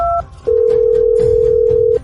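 A phone being dialed, with a short pair of keypad beeps followed by a long steady electronic tone lasting over a second, close and clear with no talking.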